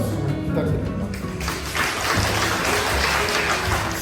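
Wedding guests clapping for the mothers at a Korean ceremony, a steady, dense applause that swells after the first second and runs on with a few voices mixed in.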